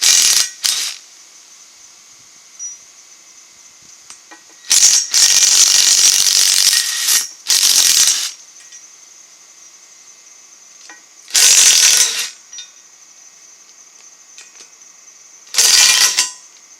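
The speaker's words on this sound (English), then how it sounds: "Now with a change of socket size, I'm going to work on the" A socket ratchet clicks in bursts of rapid pawl ticking as it backs out screws at the bottom of a wooden front-step railing, loud and close, separated by short quiet pauses.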